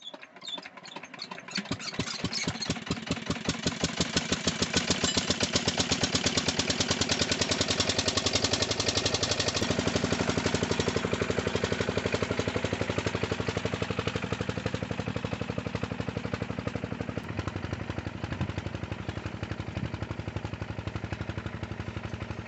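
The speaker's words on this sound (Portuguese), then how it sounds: "ligamos uma bomba, né, para fazer irrigação, nosso motor a diesel" A diesel engine powering an irrigation pump on a farm starts up and settles into a loud, steady, rapid chugging drone that runs close and unbroken, with no voices.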